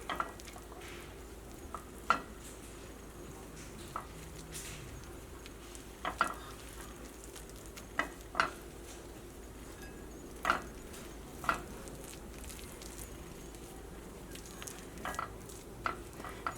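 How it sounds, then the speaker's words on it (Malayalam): Mayonnaise sandwich filling stirred together in a bowl, giving quiet, sparse scrapes and soft clicks at irregular intervals against a low background hush, with no talking. "എല്ലാം കൂടിയിട്ട് നന്നായിട്ടൊന്ന് മിക്സ് ചെയ്യാം."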